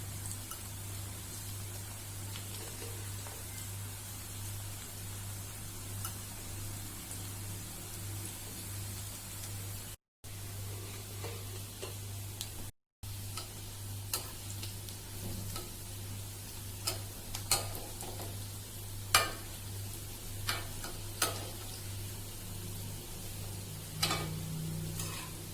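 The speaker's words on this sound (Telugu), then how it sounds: "ఇప్పుడు నూనె వేడెక్కింది కాబట్టి ఇందులో పకోడీలు వేసుకోవాలి." Onion pakodas made from besan batter frying in hot oil: a steady, fairly quiet sizzle with scattered light crackles and ticks, over a low constant hum.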